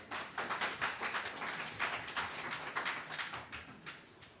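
Quiet, polite golf clap from a small audience at a town board meeting, soft scattered hand claps continuing steadily throughout at low volume.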